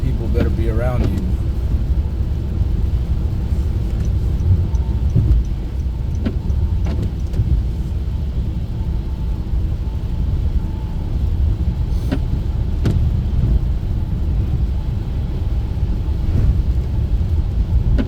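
A car drives to work on a wintry road, its steady road and engine noise filling the cabin throughout, while someone talks over the continuous hum.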